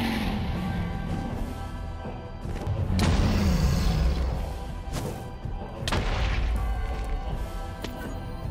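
Explosions going off around the player in Minecraft, a run of loud crashing booms and thuds in quick succession, with several heavy blasts bunched over a few seconds.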